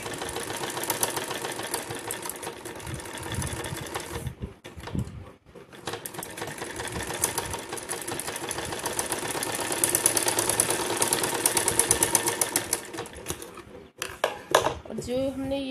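A sewing machine stitches a blouse with a continuous close mechanical whir that dips briefly a few times, over a faint background of room noise.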